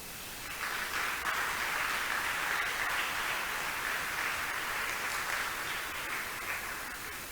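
Church congregation clapping for the Lord during a service, a broad, even burst of applause that starts abruptly and holds steady for several seconds with no talking over it.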